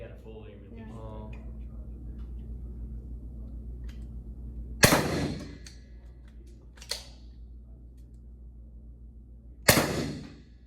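A Byrna less-lethal launcher, SD or LE model, firing: two sharp loud cracks about five seconds apart with a fainter pop between, over a steady low hum and background talk.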